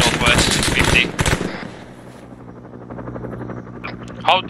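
Simulated battlefield gunfire in the military game Arma 3, a dense burst of rapid automatic fire up front, then a helicopter-like rotor drone, with a few later sharp shots and voices talking over it.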